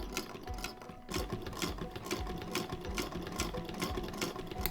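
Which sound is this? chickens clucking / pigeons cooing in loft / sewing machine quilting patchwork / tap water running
sewing machine quilting patchwork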